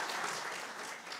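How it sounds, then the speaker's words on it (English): Audience at a university lecture event applauding the speaker, a soft, continuous wash of many hands clapping heard from a distance, fairly faint and steady without talk. "Let's give her another applause"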